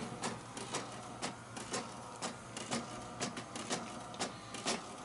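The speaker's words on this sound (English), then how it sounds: "the print that I set up from my phone is printing now." A home printer runs a page sent wirelessly from a phone, giving a regular series of mechanical clicks and whirring feed strokes at close range, with no one talking.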